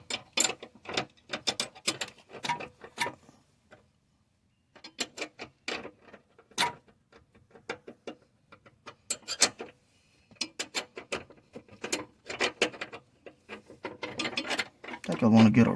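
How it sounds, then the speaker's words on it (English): A hand ratchet works on a Mercedes-Benz C240 sway bar link, giving rapid bursts of close, crisp clicking separated by short silent pauses. A louder flurry comes at the end. "we'll just go ahead and pull it down with a"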